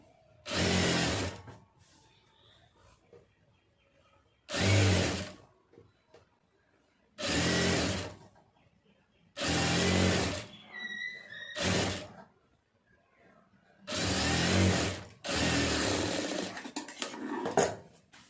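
A sewing machine stitches a blouse lining in short bursts, about seven separate whirring runs of a second or two each, with quiet pauses between them.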